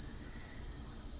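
Steady, loud chorus of crickets or cicadas droning without pause in jungle on a ranch in Yucatán, Mexico, a continuous high shrill buzz filling the air, with no voices.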